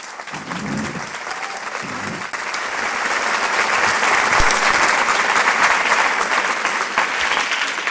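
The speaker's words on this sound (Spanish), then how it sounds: "Aplauden eso." Audience applause at a museum conference swells from scattered claps into sustained, dense clapping that fills the room.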